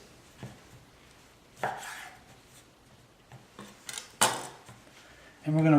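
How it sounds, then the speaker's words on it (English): A knife cuts fresh spinach pasta dough into quarters on a board, with a handful of sharp, separate chopping knocks spaced irregularly over a quiet background. A louder scrape or handling noise closes the clip. "So let's cut this in quarters."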